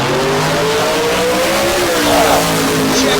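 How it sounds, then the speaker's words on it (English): David Clark's Mustang launches off the line at a small-tire drag race, its engine roaring loud and close with rising revs, wheels-up acceleration and a brief tire chirp amid another car's drone. "Check out David Clark carrying the front end of the Mustang off the line"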